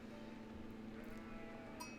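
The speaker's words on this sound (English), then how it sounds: "So I've collected these sheep" Sheep bleat in the Age of Empires 4 strategy game, a few short calls rising over a steady hum of in-game ambience and background music, fairly faint and with no talking.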